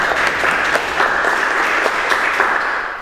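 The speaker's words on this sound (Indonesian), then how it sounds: "Tepuk tangan untuk kita semua" A classroom of students claps together in a dense, steady burst of applause lasting a few seconds, loud and close, with no talking over it.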